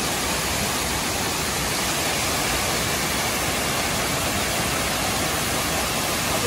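Appunni Para waterfall in Nilambur, Kerala, set in a forest area: a steady, loud, broadband roar of falling water, unbroken from start to finish with no other sounds standing out.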